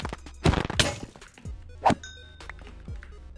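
Armor breaking in the video game Minecraft, a few sharp thunking, cracking hits at moderate loudness with short clinking tones, heard alone without talk.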